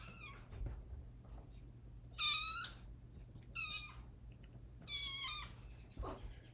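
Foster kittens meowing, three or four high, thin mews in short bursts with gaps between them, fairly faint and close, over a low steady background hum with no talking.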